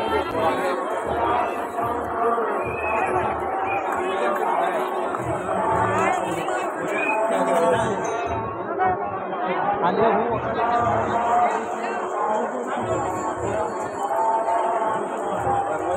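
Dense crowd of pilgrims at the Tukaram Beej temple fair, a continuous babble of many voices with shuffling and movement close around, steady throughout without pauses.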